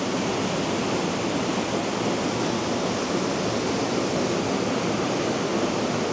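A waterfall in the Costa Rican jungle roars as a dense, unbroken wash of falling water, loud and close, with no voices.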